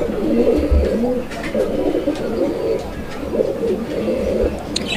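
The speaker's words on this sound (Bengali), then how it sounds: "এই যে দেখেন কবুতরটা কিন্তু ডাকতেছে" Koka pigeons cooing in a pigeon-selling setup, repeated low throaty coos rising and falling close by, with faint chirps and light background noise.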